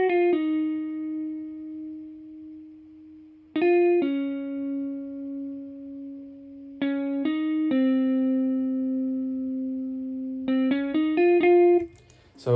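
Hollow-body blues guitar played in FL Studio through a soulful blues preset, dry without effects: slow sustained single notes and short phrases in a clean melodic line, with pauses between phrases and a quick run of plucked notes near the end.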